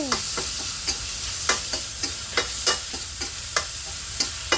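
Minced pork and holy basil stir-fried for pad kaprao, a spatula scraping and clanking against the pan in a steady rhythm over a continuous hiss of frying, close and loud with no talking.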